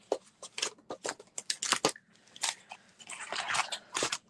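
Scissors cutting paper for card making, a close series of crisp, uneven snips and slicing crunches with brief pauses between bursts, no talking.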